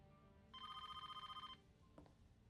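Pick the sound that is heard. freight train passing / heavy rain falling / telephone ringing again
telephone ringing again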